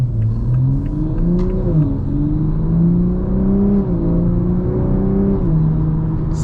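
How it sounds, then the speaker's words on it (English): A Toyota Supra accelerates gently in normal driving mode, its engine note climbing steadily with a few smooth gear shifts that briefly drop the pitch before it rises again. The sound is continuous and moderately loud from inside the car. "I'll show you guys what it sounds like when we just accelerate normally."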